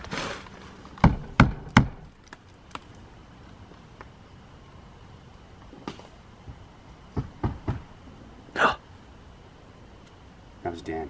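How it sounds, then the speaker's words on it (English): Three hard, sharp knocks strike a window in quick succession, then a scatter of softer taps and thuds follows, with people talking in between. "Knock again. Knock harder though."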